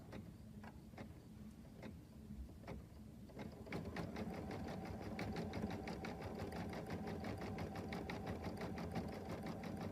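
A sewing machine taps out sparse blanket stitches for applique, then runs into a rapid, steady rhythmic clatter of stitching, close and moderately quiet.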